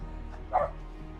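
A husky gives a single short bark, moderately faint and brief, against a quiet background with no talking.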